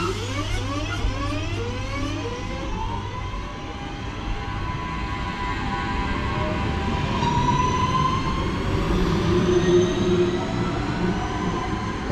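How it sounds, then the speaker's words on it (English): Northern class 323 electric train 323235 pulling out of Huyton station on a service to Crewe, with a steady rumbling roll, rising motor whine and squealing wheel tones, fairly close and continuous. "departing now is going to be 323235 heading over on the 11:41 Northern service to Crewe"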